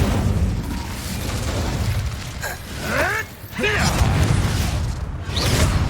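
Incendio fire spells burst and whoosh in Hogwarts Legacy combat, loud swelling booms and rushing swishes in layered waves with a brief dip, no talking.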